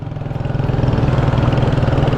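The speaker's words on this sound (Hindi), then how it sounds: "ये आप लोगों की बाइक पटाखे मार रही थी" A motorcycle engine running with a rough, rapid pulsing beat on a remote mountain valley road near the Siachen Glacier, steady and fairly close, with no talking.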